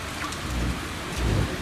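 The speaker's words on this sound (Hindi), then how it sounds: "एकदम से मूसलाधार बारिश शुरू हो गई" Torrential rain pours down during a road trip to Murree, a steady broadband hiss with low rumbling swells, likely distant thunder, building louder near the end, with no voices.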